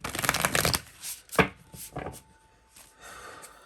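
Tarot cards being shuffled for a reading, a dense riffling burst through the first second followed by a few softer isolated card slaps and rustles, close and fairly quiet with no talking.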